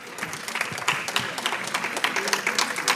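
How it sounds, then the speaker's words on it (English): Applause from an audience at a domestic violence conference, a moderate mix of claps with some distinct sharp hits over a low murmur, staying fairly even throughout. "Let's give another round of applause."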